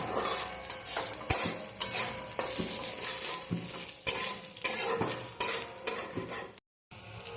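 Whole spices for tempering sizzle in hot oil for a bitter gourd dal, a continuous frying hiss under frequent metallic clinks and scrapes of a spoon stirring in the pot, close by.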